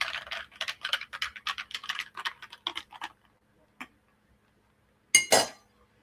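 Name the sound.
stirring a drink of orangeade with Kool-Aid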